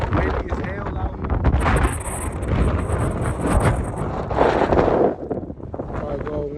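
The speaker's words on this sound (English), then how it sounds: "It's windy as hell out here." Strong mountain wind gusts outdoors, buffeting the microphone in rough, loud rumbling bursts as someone talks over it.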